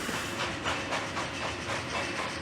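Steam locomotive running on rails, a busy, breathing train sound with steady rhythmic chuffing and clatter over a continuous hiss, moderately loud and sustained throughout.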